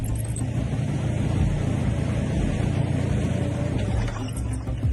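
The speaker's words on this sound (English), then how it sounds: "The engine is clearly not designed for such an overload. Just listen to how it sounds." An overloaded Russian tank engine fitted with a mine roller drones with a deep, steady rumble, labouring continuously at high load with no letup throughout.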